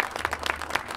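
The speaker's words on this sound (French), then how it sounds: "Je voudrais qu'on applaudisse Miss Esmeralda 2017 et sa première copine." Audience applause at the inauguration of the Foire aux Plaisirs funfair in Bordeaux, a short burst of scattered clapping with a few sharper individual claps rising above the crowd.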